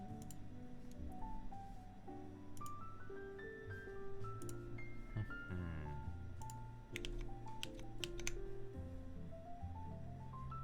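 Computer keyboard keys clatter in quick, irregular bursts of sharp clicks, close and fairly quiet, over steady background music with a melodic line.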